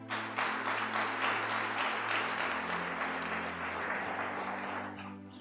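Congregation applauding in church during a sermon, sustained dense clapping over a steady low organ or keyboard drone, fading slightly toward the end.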